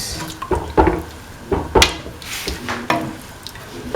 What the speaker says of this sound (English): Pour in another 150 ml of water.